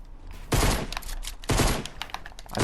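Shotgun blasts in the Fortnite video game, two loud, sharp bursts about a second apart, each trailing into rattling, clattering noise, with more scattered clicks between.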